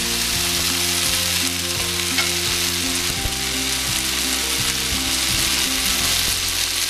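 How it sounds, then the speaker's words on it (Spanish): Tomatillos and onion fry in a pan with a loud, constant sizzle. Stirring scrapes and clatters break in at intervals, and a low steady hum sits underneath. "Se sofría un poco."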